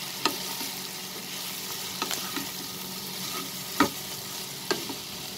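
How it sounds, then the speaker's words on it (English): Soyabean chunks fry in a pan with spices while being stirred, a steady sizzle broken by a few sharp spatula scrapes and knocks, alone with no talk. "Reduce the flame to medium and we'll mix it with the spices."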